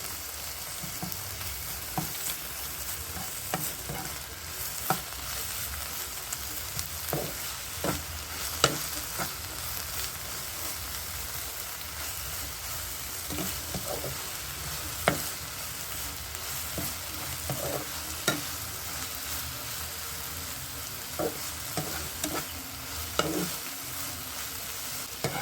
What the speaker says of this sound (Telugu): చూడండి, ఈ పేస్ట్ దీనిలో వేద్దాము. కొంచెం పచ్చివాసన పోయేదాకా కొంచెం కలుపుదాము.